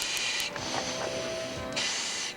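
A firefighter's FDNY breathing-apparatus air mask hisses loudly with each breath, a burst of airy rushing at the start, a quieter lull, then another strong hiss, close up and with no talking.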